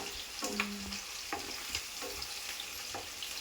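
Onions and green chilies frying in a home kitchen pan, a soft crackling sizzle punctuated by a few scraping stirs, close and fairly quiet with no talk.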